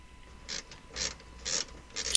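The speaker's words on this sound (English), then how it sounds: "Tighten it up as much as possible using the ratchet." A ratchet tightening a brake caliper bolt on a 2015-or-later Subaru WRX, with four short, quick clicking strokes at an even pace, close and fairly quiet.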